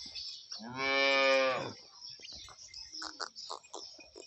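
One close, loud moo from a large, gentle dairy cow that has recently calved, lasting about a second, followed by softer shuffling and murmuring sounds.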